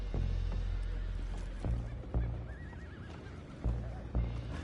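Horses in the video game Red Dead Redemption 2 neigh and whinny repeatedly, with heavy hoof clip-clop and low rumbling underneath, fairly close and steady throughout.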